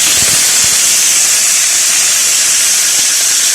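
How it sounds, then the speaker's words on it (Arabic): Pieces of duck sear in a couple of spoons of hot oil in a large pot, giving a steady, loud, dense sizzle and hiss that runs throughout, with faint low knocks early on and no voices. "هشوح بقى القطع البط الحلو دي بقى على الجهتين كده"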